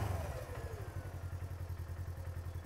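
A 2024 RZR 1000's engine idles and revs with an S&B particle separator fitted, its fans whirring under a low, pulsing, rhythmic engine chug that rises briefly then settles, heard close with no talk.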